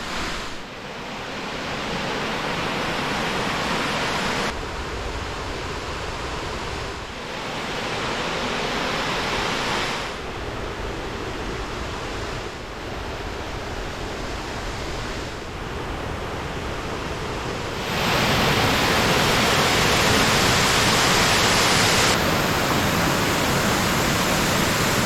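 Dipp Falls in Tasmania, a river waterfall cascading over dark columnar basalt rock, roars as a steady, dense broadband rush with no talk, swelling noticeably louder for the last stretch.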